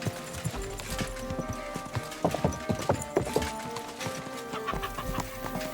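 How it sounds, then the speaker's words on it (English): Horse hooves clip-clop in the medieval game Kingdom Come: Deliverance, a rhythmic series of close, sharp hoof strikes. Faint clucking of fowl sits in the background. "Easy, good horse."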